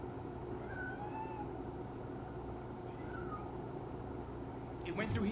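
A cat hidden somewhere indoors gives a few faint, drawn-out meows spaced a couple of seconds apart over a low steady background hum, followed at the end by a short louder clatter.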